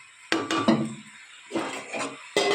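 A lid clatters onto a cooking pot of prawns in three separate bursts of metallic clinks and knocks, close and fairly loud, with quiet pauses between them.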